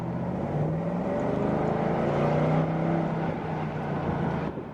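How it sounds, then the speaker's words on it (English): A 2007 Jaguar XK with a 300-horsepower engine accelerating in a short burst, heard from inside, its note rising steadily in pitch and loudness before easing off. "I can give it a quick little burst."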